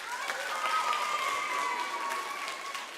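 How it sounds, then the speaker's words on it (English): Campers in a summer camp opening-ceremony audience clap in a steady, dense wash of applause, with cheering voices and a sustained whistle-like tone riding over it throughout. "by a round of applause if you're a camper"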